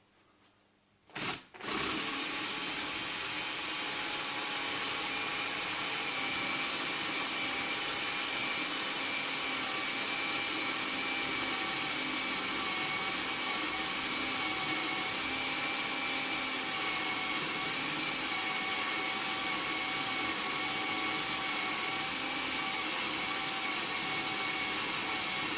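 A drill press runs steadily for about twenty-five seconds in a home garage. It starts up abruptly, then holds a loud, continuous motor whine with a constant pitch and no voices.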